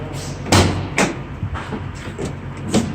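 Cargo door of a 2017 Ford Transit T-150 mid-roof short-wheelbase van, heard as several close thuds and clunks in quick succession, the firmest near the start and another near the end.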